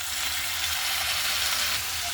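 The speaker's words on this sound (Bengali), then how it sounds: "এবার টমেটোগুলোকে পেঁয়াজের সাথে হালকা করে ভেজে নিচ্ছি।" Chopped tomatoes frying with onions in a pan for a tomato prawn curry, a steady close broadband sizzle that holds evenly throughout without pause.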